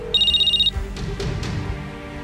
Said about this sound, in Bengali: ফোনটা ধরছেন না কেন?